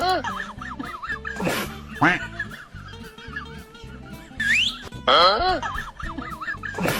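Chickens cluck and squawk with sharp bursts, close by, while people talk and laugh in the background.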